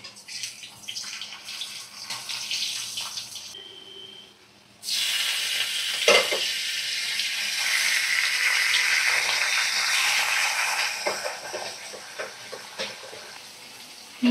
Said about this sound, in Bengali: এখন দেখো কড়া একটু আলু ভাজা করছি।